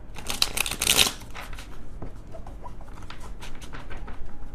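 A small tarot card deck is shuffled by hand, producing rapid papery riffling bursts, loudest in the first second, then softer intermittent patter of cards sliding and tapping, close and clear.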